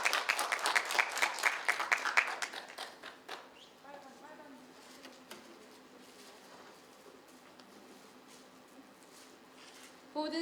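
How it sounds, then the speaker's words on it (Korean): An audience at a volunteer talk event in Sejong claps loudly to welcome a speaker, a dense burst of applause for the first few seconds that quickly fades, leaving faint room noise and soft sounds. "여러분 박수로 환영해 주시기 바랍니다."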